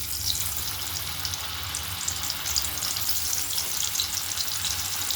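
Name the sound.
cornflour pieces frying in hot oil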